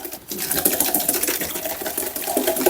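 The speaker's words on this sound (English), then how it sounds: "You want to mix your egg yolks with your sugar and your corn flour." Egg yolks, sugar and corn flour for pastry cream being whisked in a bowl, a close, busy rattling and swishing that runs steadily without talk.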